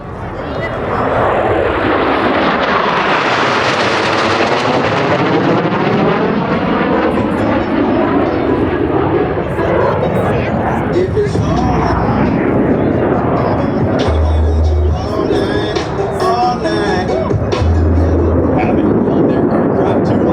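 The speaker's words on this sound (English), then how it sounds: "Blue Angels 5 and 6 are approaching the flight line at 400 miles per hour." A pair of U.S. Navy Blue Angels jets roar toward the flight line at an air show, swelling to a loud, sweeping rush that peaks and lingers over continuous engine noise.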